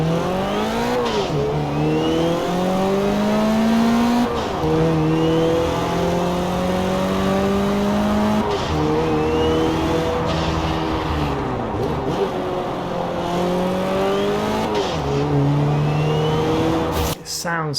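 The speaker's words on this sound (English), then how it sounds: "Sounds so good when that turbo is spooling up." A twin-turbo Toyota Celica GT4 rally build in Forza Horizon 4 revs up repeatedly through gear changes, pitch climbing and dropping several times, with a turbo whistle rising over the steady engine drone.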